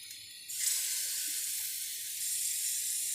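Garlic ginger paste hits hot oil for dhaba-style yellow moong dal, bursting into a bright, steady sizzle that hisses loudly and evenly on its own.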